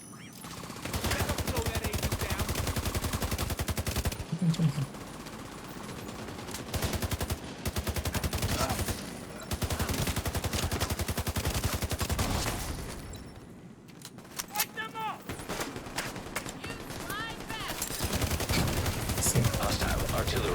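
An artillery turret fires continuously in a video game, loud rapid bursts of gunfire that run almost without pause and drop out briefly a few times.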